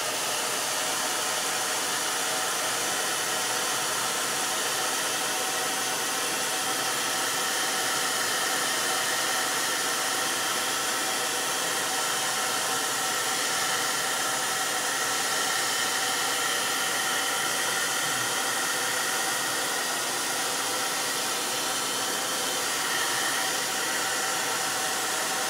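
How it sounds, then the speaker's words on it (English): A hair dryer blows continuously at close range, a steady loud whooshing roar with no pauses and no talking. "a little bit more drier, a little bit more hair dryer."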